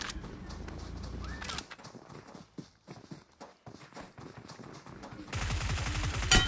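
Gunfire in the mobile battle royale game BGMI: crackling shot bursts and scattered sharp reports, with a dense, loud burst of rapid fire at the end.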